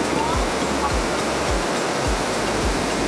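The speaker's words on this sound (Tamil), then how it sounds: "ஃபுல்லா அருவி மாதிரியே இருக்கு." Suruli waterfall pours strong, rushing water in a steady broadband roar, close and loud throughout, with low thumps recurring about every half second under the constant wash.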